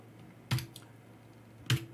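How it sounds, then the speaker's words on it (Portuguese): Two separate keystrokes on a computer keyboard as a column name is typed, sharp and close with a quiet pause between them and no talk. "Vou digitar aqui o nome da coluna, country, ponto .agg"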